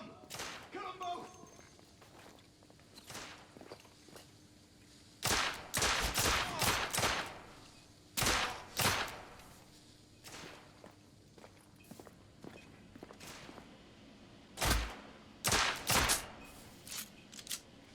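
Bursts of gunfire ring out in The Order 1886, with sharp volleys clustered around the middle and near the end over a steady background hum and scattered footsteps, plus voices shouting.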